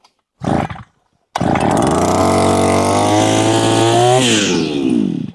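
A small two-stroke petrol brush cutter engine, a Ronix, sputters briefly, goes quiet, then catches and roars loudly at high revs, holding a steady buzzing whine before easing slightly.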